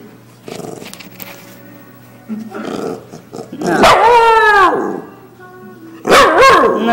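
A dog barks and yips in short bursts, close and loud, with a few growly whines between, while someone speaks quietly in the gaps.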